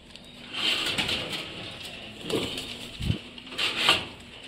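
Yellow saddle fillback pigeons coo softly in low, throaty bursts, a few close calls amid light rustling and faint background chirps.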